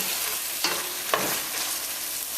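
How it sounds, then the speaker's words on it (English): Curry chicken with potato fries in a pan with an even, close sizzle, and two quick scraping stirs cut through it. "You got to keep stirring ever so often"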